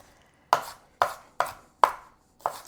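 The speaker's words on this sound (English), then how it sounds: "we're gonna dice up 1/2 of a large onion or 1 small onion" Knife dicing half of a large onion on a cutting board, five crisp separate chops about half a second apart, close and clear with no talking.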